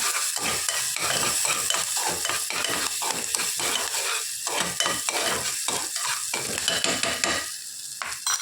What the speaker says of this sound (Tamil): குட்டியாக கட் பண்ணி வச்சுருக்கிற பச்சை மிளகா இப்போ வந்து நல்லா வதக்கிக்கலாம்